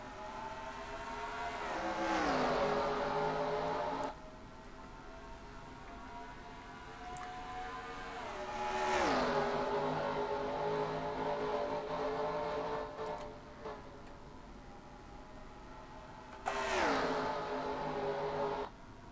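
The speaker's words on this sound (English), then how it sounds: "A handful of cars have chosen to pit, and Nathan Ormond is going to stay out on track" Race cars in a racing video game roar past one after another in three separate passes, each engine note rising loud and close, then falling away into quieter gaps.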